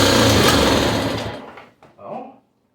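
A 1963 Honda Sport 50 C110 motorcycle with a fouled plug and a doubtful carburettor fires and buzzes loudly and close for about a second, then sputters, coughs once more and dies into silence.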